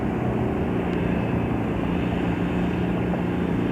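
Beechcraft Bonanza propeller airplane engine running at an airfield, a steady, even drone held throughout with no voices.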